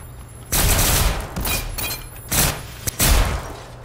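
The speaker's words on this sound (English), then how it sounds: "I keep taking Flechettes to the face" Flechette gunfire in the Generation Zero video game strikes the player in several loud, rapid bursts, a few dense volleys in close succession.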